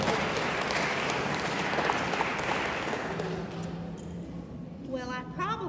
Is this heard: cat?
no